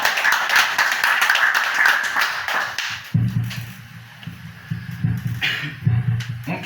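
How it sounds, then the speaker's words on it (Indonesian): Clapping from an audience at a Batak family association gathering in Sorong, a burst of close, dense applause that fades, followed by a lower rumbling murmur. "Saya minta lagi aplaus sekali lagi"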